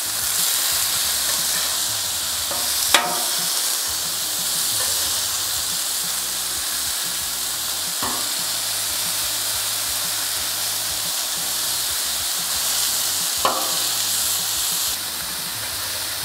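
Salt and pepper chicken fries sizzle steadily on a Blackstone griddle as they are flipped, a constant close frying hiss broken by a few sharp spatula clicks and scrapes, with no talking.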